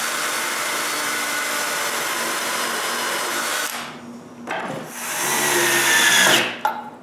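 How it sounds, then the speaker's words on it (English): Steady whine of a power drill running continuously while drilling holes in a wooden bandsaw build, then a brief pause and a second burst that revs up before cutting off. "I just need to drill more pallet holes to keep this in place."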